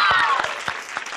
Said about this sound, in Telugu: చప్పట్లు కొట్టొచ్చుగా.